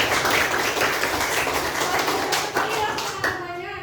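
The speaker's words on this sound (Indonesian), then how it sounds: "Tepuk tangan buat Suki" A school audience claps for a student named Suki at a classroom teaching presentation, a dense, sustained patter of hands that stays loud throughout and fades slightly near the end.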